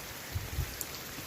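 Heavy rain pours down in a village, a close, even hiss of falling water with a few soft splashes.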